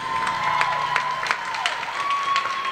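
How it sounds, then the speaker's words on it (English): Audience at a wedding reception clapping and cheering for the newlywed couple after their first dance, moderate and sustained, with scattered louder claps and a faint tone running through. "clap your hands one more time for two amazing people, Alicia and Zach."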